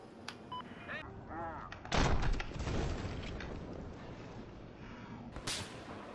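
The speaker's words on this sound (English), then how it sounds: "Now I'm gonna shoot him out of the sky with rockets." Rockets and gunfire in Battlefield 4 aimed at an aircraft: a sharp launch burst near two seconds, then a dense rumbling barrage with scattered loud reports and electronic game sounds, building to a final crack near the end.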